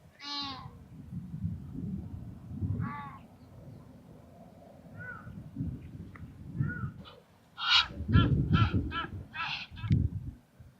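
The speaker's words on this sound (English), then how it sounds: "There's some geese there too." Several harsh honking calls from geese, some in quick bursts, sounding moderately distant over low rumbling background noise in Windhoek, Namibia.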